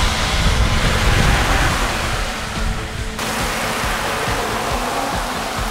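Heavy rain pours down on a bicycle ride along a road in Italy, heard as a loud, steady wash of noise that dips briefly near the middle before resuming, with no one speaking.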